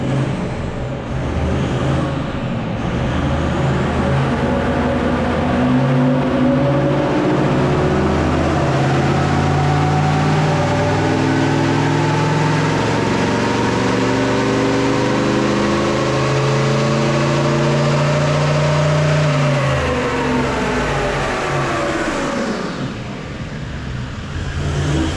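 A car engine with a 3-inch versus 4-inch exhaust runs up under load on a dyno, rising in a long, loud, steady sweep of revs for about twenty seconds before dropping back off, close and alone.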